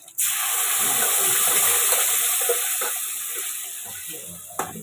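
Water pours into a pot of soya bean sambar in a steady, rushing stream lasting several seconds, starting abruptly and tapering slightly before a brief clink near the end.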